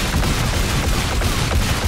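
Dense, loud gunfire in a video game, a continuous fusillade of overlapping shots and rumbling booms filling nearly two seconds with no voices.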